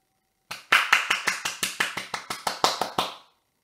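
About thirteen crisp, evenly spaced claps ring out close and alone in a French children's bedtime story, following a brief faint tone and ending with a short fading tail.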